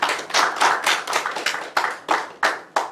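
A small audience at a talk claps steadily, with individual hand claps standing out in a quick uneven rhythm, close and fairly loud.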